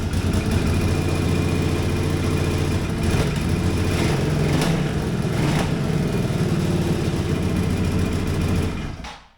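A Cagiva Elefant adventure motorcycle engine, unstarted for half a year, runs at a steady loud idle with a dense mechanical drone, then cuts off at the end.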